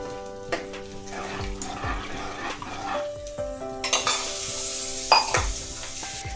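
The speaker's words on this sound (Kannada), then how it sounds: "ಈ ಒಗ್ಗರಣೆನ ಈ ಕಾಯಿ ಹಾಲಲ್ಲಿ ಹಾಕ್ಕೊಂಡ್ಬಿಡಿ." A sizzling tempering with ginger garlic paste is poured into coconut milk, giving a hissing fry with stirring and a few pan clinks, swelling louder in the second half.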